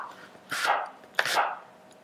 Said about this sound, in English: chop our apple by laying it flat side down onto our cutting board and chopping it vertically and then horizontally